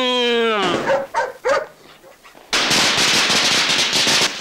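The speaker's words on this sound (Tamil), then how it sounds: "எல்லாரும் பட்டாசு வெடிக்கிறாங்களா" Firecrackers burst in a rapid, loud crackling string that takes over abruptly after a stretch of dog-like barks and yips, continuing steadily to the end.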